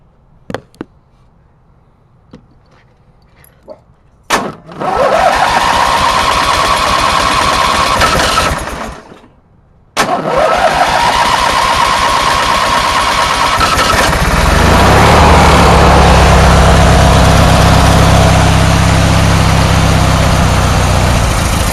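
A racer's new engine on full choke cranks over, catches and roars at high idle, cuts out briefly, restarts with loud steady running that deepens into a lower rumble, all close and without talk.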